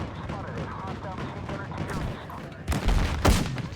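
Gunfire in a battle at point B in a video game: dense, continuous volleys of shots with louder blasts near the end, heard under a man's speech.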